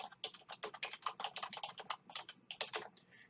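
Fast, uneven typing on a computer keyboard while entering text into credit repair software, a dense run of close, crisp key clicks with no speech.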